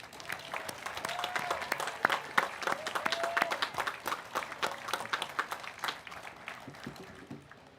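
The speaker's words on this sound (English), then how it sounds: "Please give a big round of applause for our 2021 faculty marshals." A large crowd applauds the 2021 faculty marshals at a Class of 2021 commencement ceremony, dense sharp clapping building then tapering off over several seconds in a spacious venue.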